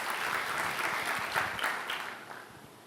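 Church congregation applauding during a Sunday service, a steady wash of clapping that holds for about two seconds, then tapers off.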